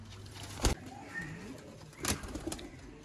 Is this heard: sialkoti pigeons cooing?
yes